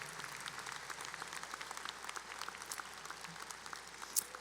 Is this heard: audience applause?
yes